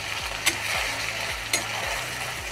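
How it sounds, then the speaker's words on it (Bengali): Garlic, ginger and green chilli paste frying in a pan, with a steady sizzle under repeated rhythmic scrapes of a spoon and two sharp clinks against the metal. "কষিয়ে নেব"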